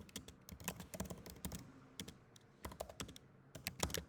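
Fingers type on a computer keyboard, entering text for a legal document: quick, irregular bursts of crisp, faint key clicks with brief pauses between clusters.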